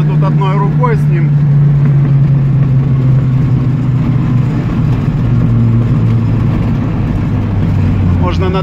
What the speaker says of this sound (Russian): Слышите, как пищат колеса?